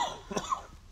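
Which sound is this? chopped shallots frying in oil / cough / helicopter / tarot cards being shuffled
cough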